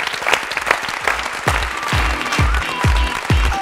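A studio audience at an Azerbaijani evening game show claps steadily, dense and close, with a few louder strikes.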